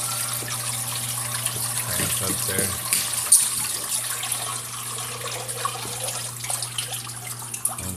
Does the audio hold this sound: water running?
yes